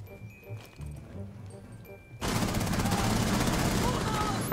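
Dense, loud video game gunfire in a war shooter bursts in suddenly and keeps going at full volume, after a quieter stretch of game ambience with faint background sounds.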